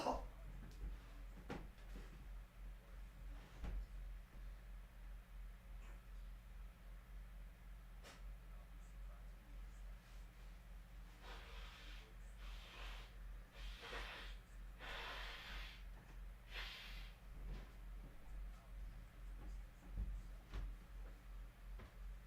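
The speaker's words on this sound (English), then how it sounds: "I'm going to take another quick second to go blow my nose." Someone blows their nose off to the side, a cluster of soft, breathy bursts in the middle of a quiet stretch with faint ticking and low hum.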